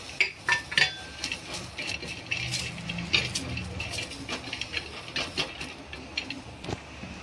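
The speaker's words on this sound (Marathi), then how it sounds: "आता त्यानंतर मी मस्त आपलं खोबरं टाकणार आहे भाजायला" Grated dry coconut roasting in a pan for a Marathi mutton dish, with a spoon scraping and clinking against the metal in irregular taps and scrapes under a low background hiss.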